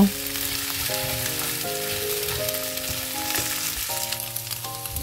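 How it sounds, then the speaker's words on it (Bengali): Garlic, onion and egg fry in a pan for spicy noodles, giving a continuous bright sizzle with occasional stirring beneath a melodic musical tune. "এবার আমি সব কিছু ভালো করে মিক্সড করে খানিকক্ষণ এটা আমি ভেজে নিব।"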